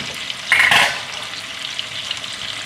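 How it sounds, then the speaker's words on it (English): Duck breast searing in a pan with rosemary, giving a steady close sizzle and crackle, with a brief louder spatter near the start and no voices. "Start frying now."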